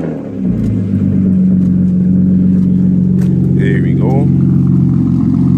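BMW E36 engine cranking and catching, then settling into a loud, low idle rumble with slight revving, close to the microphone, while someone speaks briefly over it.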